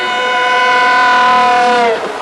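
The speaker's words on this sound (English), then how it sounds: "Amtrak First is trying out a high-tech, high-speed train from Sweden, the X2000." A Swedish X2000 high-speed train built by ABB, on trial with Amtrak, blasts its loud horn in one sustained chord for about two seconds before it cuts off sharply.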